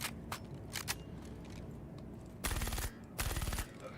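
Suppressed gunfire in the game Star Citizen: two tight rapid bursts, each under half a second, plus a few earlier isolated shots, muffled and thumping over a low background hum, with no talking.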